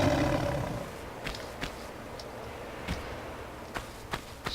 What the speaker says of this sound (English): So there's some sort of tiger beast thingy with some dude.